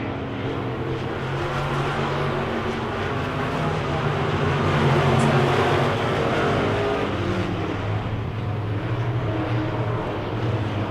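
Wissota Midwest Modified race cars lapping a dirt oval, a loud continuous engine roar with droning low tones that swells in the middle as the pack passes, then eases slightly.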